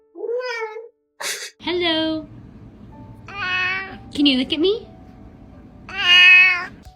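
An indoor cat meows several times, loud and close, in drawn-out, wavering calls with short pauses between them, while a person speaks to it in between.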